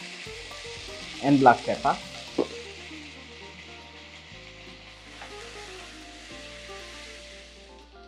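Onions and bacon for a frittata frying in a pan with a steady, soft sizzle, briefly under a voice and then continuing alone with occasional stirring scrapes.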